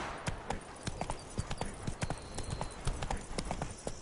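Geralt's horse Roach from The Witcher 3 gallops in a steady, rapid clip-clop of hooves, loud and close, with faint background game ambience and no talk.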